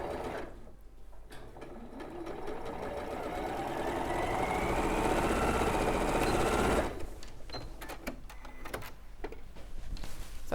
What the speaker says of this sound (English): it's just easier to sew in place here.